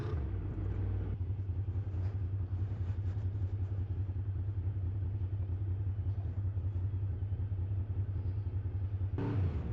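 A Honda VFR750 motorcycle rumbles steadily on a poorly maintained country lane, its engine drone and road noise continuous and close for the whole stretch, with a brief change in tone near the end.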